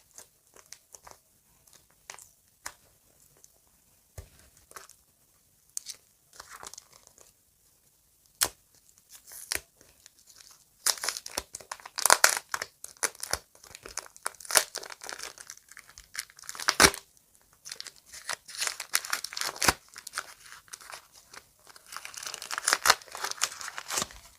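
Crinkly paper packet being handled, with sparse rustles and tears at first, growing into busier, louder crackling and crumpling close by; no voices.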